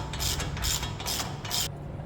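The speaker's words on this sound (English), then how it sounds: "All I'm doing is tightening up this tie rod." A wrench tightening a tie rod on a vehicle's suspension, four quick rasping ratchet strokes in a steady rhythm, close and fairly quiet, then stopping.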